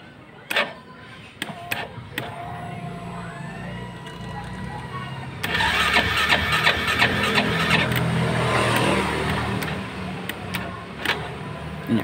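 A neglected Yamaha motorcycle is cranked and its engine catches about halfway through, settling into a loud, steady idle after a few sharp clicks and clunks, with people talking nearby.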